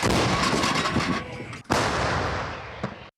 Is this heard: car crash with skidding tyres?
no